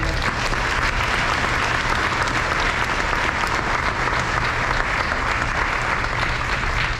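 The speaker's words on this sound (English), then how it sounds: "please join me in offering a well-deserved round of applause for our parents and guardians." Loud, dense applause from a large audience at a high school senior awards ceremony, a continuous roar of clapping sustained evenly from start to finish.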